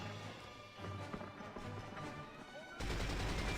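Gunfire in the video game 007: From Russia With Love, a burst of several sharp shots over game noise and music, followed by a louder, denser stretch of action at the end.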